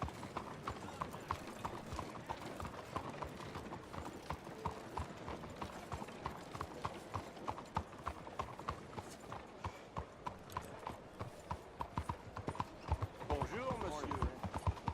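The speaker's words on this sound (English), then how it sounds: "That's a hell of a horse you got there." Horse hooves clip-clop steadily in Red Dead Redemption 2, a continuous rapid rhythm of hoof strikes at moderate level with voices talking over them.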